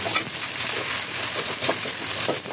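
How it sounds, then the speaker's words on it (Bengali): Onions with cinnamon, cardamom, bay leaf and turmeric fry in a pan, a close, steady sizzling hiss with light crackles and faint stirring throughout. "দারচিনি, এলাচ, তেজপাতা, হলুদের গুঁড়ো, এগুলো সব একসাথে দিয়ে ভালো মতন আমি ভেজে নেব"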